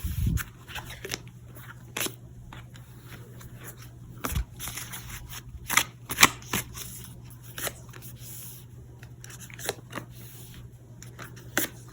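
Tarot cards are shuffled before a draw, giving soft papery riffles, slaps and crisp snaps at irregular intervals over a low steady hum, with no talk.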